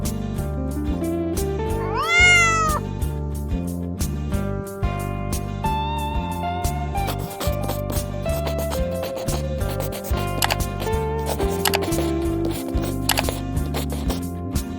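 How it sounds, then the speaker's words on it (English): A cat gives one rising, wavering meow over bouncy children's music, with plucky musical notes continuing steadily around it. "C for cat."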